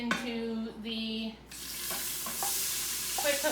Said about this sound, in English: There's a nice big sizzle going on because this has been preheating with the oil in there.